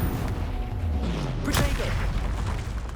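A Confringo fire spell in Hogwarts Legacy bursting into a deep boom with a crackling blast midway, layered over steady rumbling game noise.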